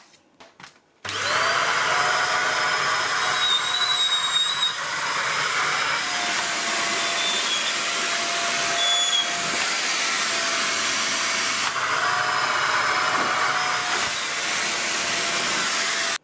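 A Silvercrest SHZK 600 A2 corded 600 W vacuum cleaner runs in carpet mode over a soft rug, a steady loud motor whine and rushing suction droning on without a break after it switches on.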